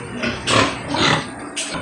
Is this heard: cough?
no